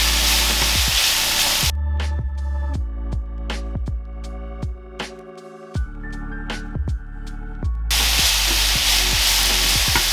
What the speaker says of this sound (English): Alright, pan is now hot. We got the groundhog dumped in.